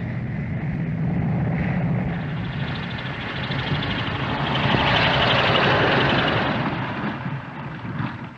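Engine drone of a light aircraft coming in to land in a 1938 black-and-white film, a steady broad rumble that swells in the middle and eases off toward the end, with no talking.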